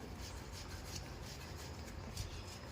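Boiled potatoes are rubbed against a grater in a steady run of quick, soft rasping strokes, faint and close, with no speech.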